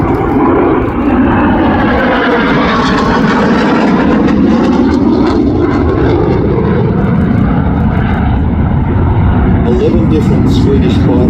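A SAAB J35 Draken jet fighter performing at an air display at the Midlands Air Festival, its engine a loud, steady roar that fills the whole stretch without a break.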